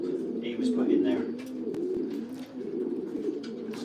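Racing pigeons coo steadily in low, rolling bursts while being basketed for a race from Honiton, a dense close chorus of throaty calls that runs throughout with faint voices underneath.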